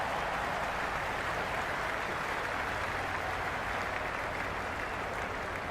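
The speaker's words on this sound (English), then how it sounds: "listen to that crowd." A stadium crowd roars at an IPL cricket match between RCB and SRH, a dense, loud, unbroken wash of cheering that holds steady for about six seconds.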